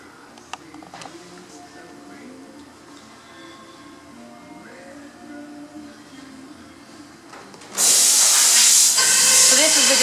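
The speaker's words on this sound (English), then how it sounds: "Just steam it" A steamer bursts on suddenly in the last seconds with a loud, steady hiss, used to steam a natural-colour 100% beaver felt hat in a hat shop, after quieter handling sounds and faint background voices.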